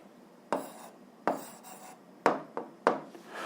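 Hand writing an answer down, four short scratchy strokes spaced apart, close and quiet, with no speech.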